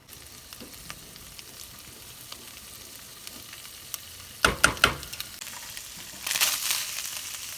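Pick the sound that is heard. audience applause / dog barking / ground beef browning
ground beef browning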